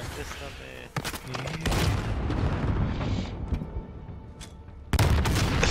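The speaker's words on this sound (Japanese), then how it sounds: "自爆しました大爆発" A big self-destruct blast in a video game booms out in heavy rumbling bursts, a thunderous explosion with crackling debris that fades, then another loud burst near the end.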